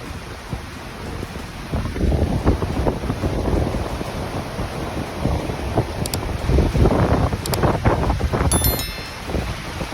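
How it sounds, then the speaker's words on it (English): Storm surge from Hurricane Nicholas in Texas: strong wind buffeting the microphone and rushing, surging water, a loud continuous roar with gusting swells and no speech. "Storm surge from Hurricane Nicholas created dangerous rising waters in Texas."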